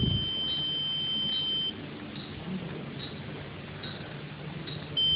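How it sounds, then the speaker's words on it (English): A patient monitoring device sounds its buzzer alarm as a steady high-pitched tone over a low electrical hum, cutting out partway through and returning at the end. "we can see the buzzer and the red abnormal light glowing"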